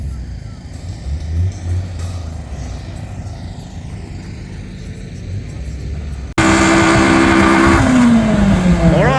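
Engines revving at a drag race line with a rear-wheel-drive Ford, a low distant rumble that jumps to a loud, close roar of revving near the end, with talk over it.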